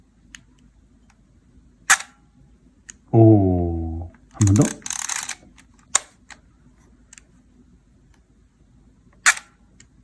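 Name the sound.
film camera winder advancing and shutter clicking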